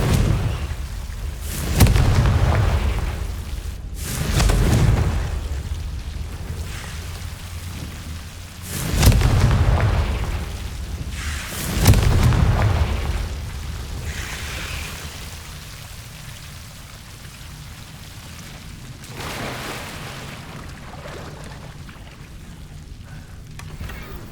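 Confringo explosion spells are cast in the Hogwarts Legacy video game, several booming blasts spaced a few seconds apart over a constant rainy, stormy ambience, quieter later on.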